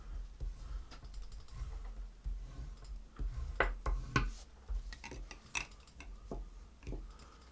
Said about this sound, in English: I'm going to fold and burnish my card base already